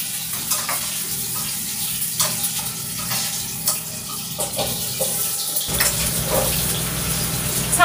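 Sliced ginger frying in hot oil in a home kitchen pan, a crackling sizzle with scattered pops and scraping stirs that grows louder and denser near the end, with no voices.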